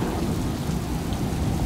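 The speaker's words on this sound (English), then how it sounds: "Still pouring down the rain." Heavy rain pours down in a dense, constant roar, loud and close, with no voices, near the Dragon Bridge in Da Nang, Vietnam.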